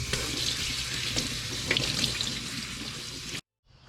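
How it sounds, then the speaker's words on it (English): Cold tap water runs steadily over goat milking equipment in a sink, a close, even rushing splash with small clatters, cutting off abruptly near the end. "anything that came in contact with milk gets rinsed with cold water first"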